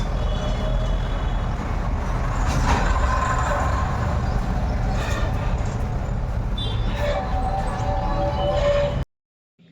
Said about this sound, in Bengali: ঝুল বারান্দাতে গাড়ির আওয়াজ